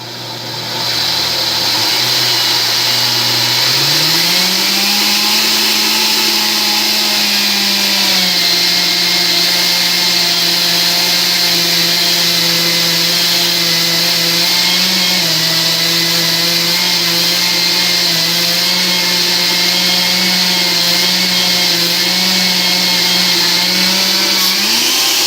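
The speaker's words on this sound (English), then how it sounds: "I know my blender well now, that squeal means that it's run out of things" An Oster blender grinding coconut into coconut butter runs loud and steady, its motor pitch climbing into a sustained whining squeal once the blade runs short of material.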